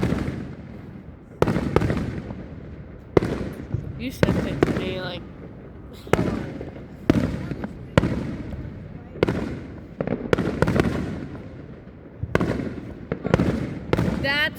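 Fourth of July fireworks bursting in a rapid series of loud, close booms and crackles over about fifteen seconds, with people chatting between and under the blasts.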